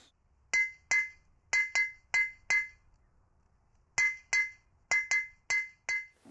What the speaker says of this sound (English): I hammer and shape my metal on it.